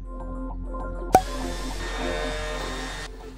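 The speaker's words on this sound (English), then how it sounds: "To sand, I used my orbital sander and 80 grit sandpaper" An orbital sander fitted with 80 grit sandpaper runs steadily on wood furniture, a close, even whir that starts with a sharp knock about a third of the way in and holds at a constant level until it cuts off near the end.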